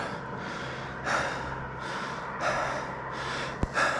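Heavy, rhythmic breathing from a cyclist climbing a steep road in Big Sur on a loaded touring bike, close to the mic, with loud gasping inhales and exhales repeating about every second and a half.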